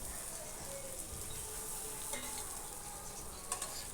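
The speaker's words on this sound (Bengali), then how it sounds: "এবার আমি এর মধ্যে পটলগুলো দিয়ে দিচ্ছি" Pointed gourd slices are stirred into browned onions frying in oil in a pan, giving a faint, soft sizzle broken by scraping stir sounds, with no voices.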